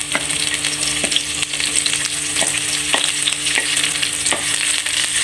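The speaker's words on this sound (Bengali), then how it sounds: "এটা হালকা একটু ভেজে নেওয়া লাগবে, বেশি ভাজার দরকার নেই" Chopped garlic fries in hot oil for a mustard greens dish, a continuous close sizzle broken by several sharp scraping stirs of a spatula against the pan.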